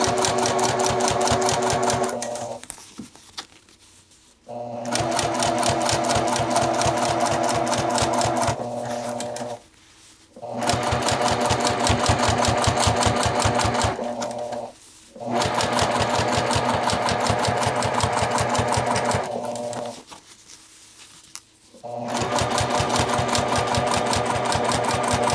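A sewing machine runs in long loud bursts of rapid, even stitching on a jacket collar seam, stopping briefly four times for pauses and quiet handling before starting up again.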